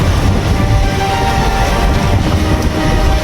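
A passenger train rolls along at sunset, its loud continuous rumble and rattling wheels filling the scene from on board, with no voices.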